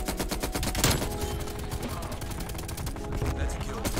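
An M60 machine gun fires in Black Ops Cold War, a rapid, continuous burst of loud automatic shots in a steady rhythm throughout, with game effects layered underneath.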